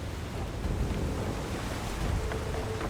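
Boat cutting through water in Final Fantasy XVI, a steady broad wash of surf and rushing water with wind noise, continuous and fairly loud throughout with no voices.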